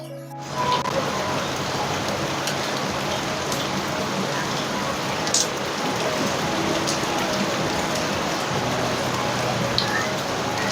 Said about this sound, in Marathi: खूप पाऊस येतोय, खूप जोरात येतोय.